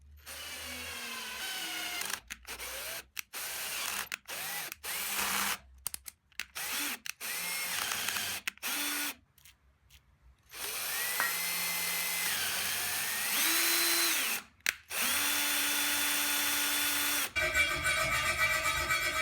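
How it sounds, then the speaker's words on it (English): A power drill drills and taps 1/4 inch threads into the side of a table saw wing, whining in repeated start-stop bursts that rise and fall in pitch, loud and close, with longer sustained runs later. "I drilled and tapped some 1/4 inch threads into the side of the wing."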